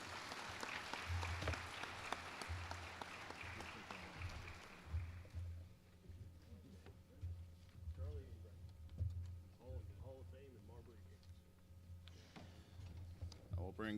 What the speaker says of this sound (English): Let's give all the recipients one more round of applause.